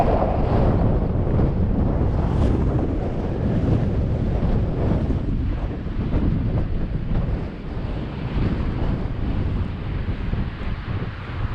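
Strong wind howls around a Hilleberg Allak tent at a wild camp in Scotland, a loud, gusting roar that buffets the microphone continuously with no speech.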